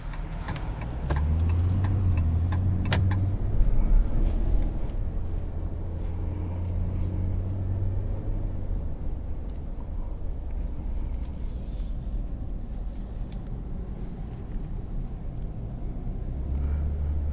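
A 2021 Ram 1500 Classic Warlock V6 pickup drives along with a steady low engine and road rumble inside the cab, and a run of sharp clicking ticks comes early on before the drone settles.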